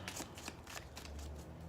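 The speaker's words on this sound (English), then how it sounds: "These are the cards that I will just sit and shuffle for hours on end" Oracle cards being shuffled by hand, a steady run of soft papery riffles and flicks, close and fairly quiet, with no voices.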